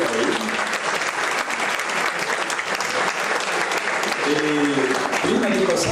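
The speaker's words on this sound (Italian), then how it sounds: "Un applauso per lei." Audience applause at an anniversary celebration of a local club, a loud, sustained wash of many hands clapping, with a voice speaking briefly over it at the start and again near the end.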